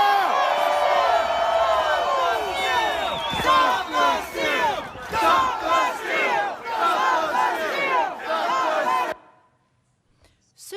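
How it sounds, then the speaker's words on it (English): A large crowd at a Trump rally chants "stop the steal" in loud, rhythmic unison, the roar swelling in repeated bursts for about nine seconds before cutting off abruptly into near silence. "Here's what that chant sounded like from the crowd's perspective."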